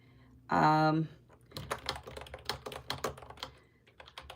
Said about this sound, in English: And I'm just typing this out real quick